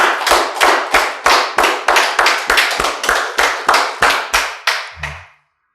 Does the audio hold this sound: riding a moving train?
no